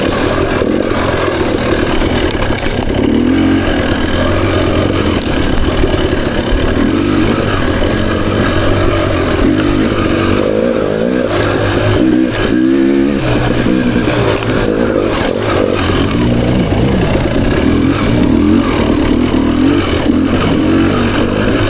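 A 2024 Beta 300 RR Race Edition two-stroke dirt bike ridden on single track, its engine buzzing loudly and steadily at low to moderate revs with small throttle swells, close and constant throughout.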